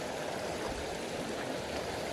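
A flowing stream runs with a steady, even rush of water, continuous and moderately loud throughout the short stretch, with no voices over it.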